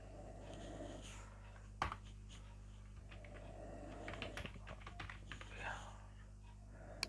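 Quiet typing on a computer keyboard while a company address is entered in Tally ERP9, soft irregular key clicks over a low hum with faint background voice.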